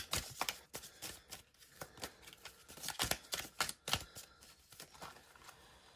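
Tarot cards shuffled and drawn by hand in quiet, close-up flurries of soft riffling slaps and flicks, irregular and fairly faint, with no talking.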